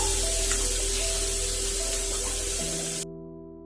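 Tandoori chicken sizzles in butter in a pan at home, a steady close frying hiss over a constant low hum with faint tonal lines, cutting off abruptly near the end.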